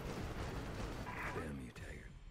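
Gunfire in the Prototype video game: a dense, continuous barrage of blasts and crackling shots, loud and chaotic, with someone talking over it and a sharp break near the end.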